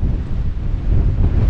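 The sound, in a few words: wind blowing on the coast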